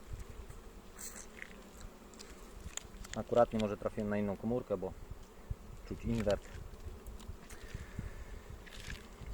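Honey bees buzz at a frame of buckwheat honey, a close, loud droning swell in the middle with a shorter burst after, while someone speaks quietly over them.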